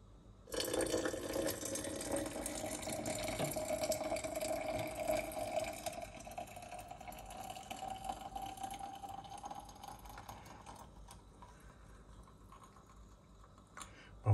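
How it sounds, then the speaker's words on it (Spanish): A steady stream of hot water pours into a glass jar for about ten seconds, a broad splashing rush that tapers off, followed by quieter handling noises. "Con mucho cuidado vamos a dejar caer el agua en el frasco."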